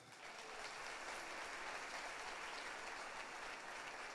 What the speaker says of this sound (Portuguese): Uma salva de palmas para o Moisés.